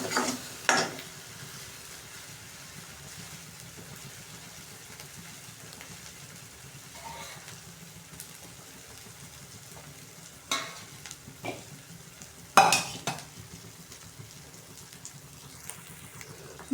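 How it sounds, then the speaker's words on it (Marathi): Masala for egg curry sizzles softly in oil in a pan, a steady low frying hiss broken by a few louder scraping stirs, with no one speaking. "मसाला मस्त तेल सुटेपर्यंत चांगला मसाला परतून घ्यायचा."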